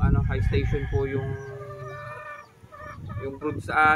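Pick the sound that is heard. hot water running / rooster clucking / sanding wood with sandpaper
rooster clucking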